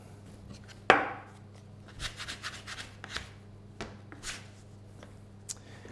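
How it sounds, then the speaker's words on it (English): Chocolate pandoro dough is kneaded lightly by hand on a floured surface, with one sharp slap followed by soft, irregular patting, pressing and rubbing sounds, quiet and close, with no talk. "just give it a light knead. So this will distribute the chocolate throughout the dough"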